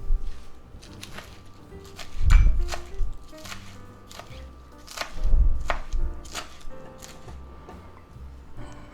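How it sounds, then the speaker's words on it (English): A knife chops spinach leaves on a cutting board in a home kitchen: a steady run of crisp close knocks with two heavier flurries, no talking over them. "Chop up some spinach leaves."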